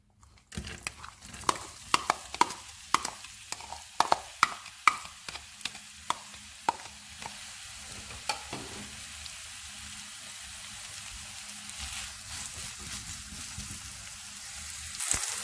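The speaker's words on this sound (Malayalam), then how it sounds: "ഇതിലോട്ട് നമുക്ക് അരിഞ്ഞു വെച്ചിരിക്കുന്ന സവോള ഇട്ട് കൊടുക്കാം." Chopped onion sizzles in hot oil in a pan for a mushroom fry, with sharp clinks and scrapes of stirring over the first half, then a steady, even frying hiss continuing alone.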